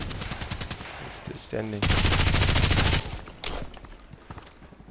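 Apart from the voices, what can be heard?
gunfire in Contract Wars video game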